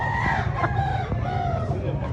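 A gamefowl rooster at a manok expo in Consolacion, Cebu crows and clucks close by, loud and continuous over a low hum of background noise.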